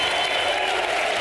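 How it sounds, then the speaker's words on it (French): Sustained applause for Ukrainian president Volodymyr Zelensky in the European Parliament in Brussels, a dense, steady wash of many hands clapping at once with no break, heard mid-ovation. "ces applaudissements nourris"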